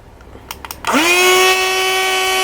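A rechargeable portable blender starts after a few faint clicks. It spins up quickly into a loud, steady whine that holds close and alone until the end.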